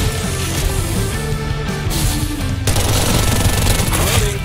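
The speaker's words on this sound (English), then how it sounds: "The new weapon, Uzi, has the fastest fire rate in the entire game." Rapid automatic fire from an Uzi submachine gun in the game Farlight 84, a loud, dense stream of shots running continuously over game music and effects.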